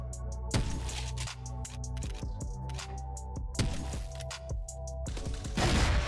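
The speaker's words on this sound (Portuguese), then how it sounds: "Tem dois tiros, né?" Gunfire from the online shooter CrossFire, played in ranked mode with a CheyTac Hades sniper rifle: a string of sharp shots and impacts layered over a steady game background hum.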